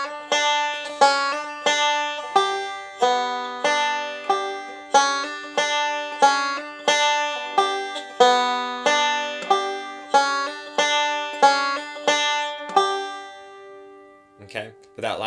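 Banjo picking rolls, a bright plucked pattern repeated three times at an even bluegrass pace, close and clear, ending with a brief low thump.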